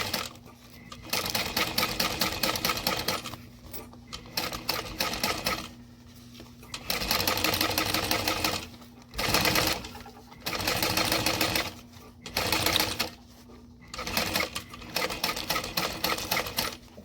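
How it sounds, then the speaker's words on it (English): Sewing machine stitching a zipper seam on a backpack, using a zipper foot: rapid, rhythmic mechanical stitching in repeated runs of a second or two, separated by brief pauses, close and clear. "You want to be stitching on your seam allowance."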